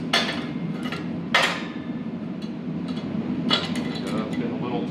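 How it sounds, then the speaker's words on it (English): Hammer blows on hot steel at a blacksmith's forge while bending curves for table legs: three or four sharp metallic strikes spaced irregularly over a steady low background hum. "If you're going to start swinging the hammer, you should have some hearing protection as well."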